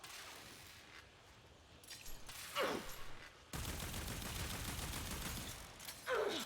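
Gunfire from the Warframe video game, Zephyr frame shooting enemies: loud bursts of automatic fire with sharp, shattering impact sounds, broken by short pauses, under a busy game soundscape.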